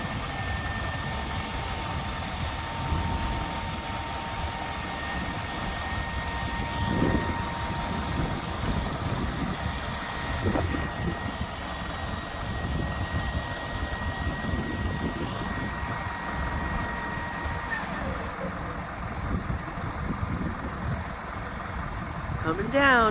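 Remote-controlled 18 cubic yard trash and landscape dump truck engine idling at a steady, fairly quiet rumble throughout, with faint higher mechanical whine and brief clunks from the dump bed moving.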